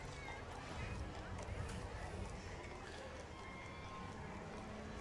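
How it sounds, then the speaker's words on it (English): Horses and a little pony walk in a July 4th parade in Fredericksburg, Texas; soft hoof clip-clop sits under people talking and general crowd and street noise. "Now we're getting in some horses"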